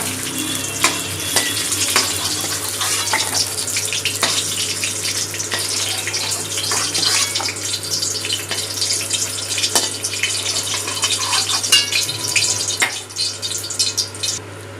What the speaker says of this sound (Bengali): ওই তেলে ফোড়নে দিয়ে দিলাম শুকনো লঙ্কা, 1 চামচ 5 ফোড়ন আর 3টে তেজপাতা